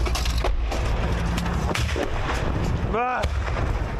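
Heavy artillery shelling on a front line, with soldiers under dense enemy fire: a loud, continuous roar of blasts and crashing impacts with a brief rising whistle near the end.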